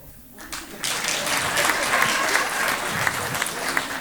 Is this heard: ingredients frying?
no